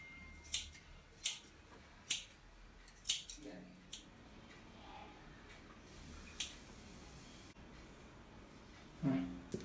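Scissors cut hair close by in a steady series of crisp metallic snips, spaced about a second apart, with faint rustling between them.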